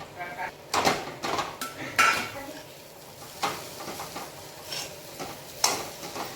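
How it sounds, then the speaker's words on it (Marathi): A spoon stirs coriander through rava upma with onion, chilli and curd in a pan, making scattered scraping clinks and soft knocks against the metal, a few sharp taps standing out, alongside some talking. "हे छान कोथिंबीर वगैरे मिक्स करून घेते"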